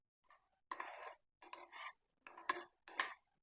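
Stuffed chillies roasting in a hot pan over medium flame are stirred with a utensil, giving four short bursts of scraping and clinking separated by brief pauses, close and fairly quiet.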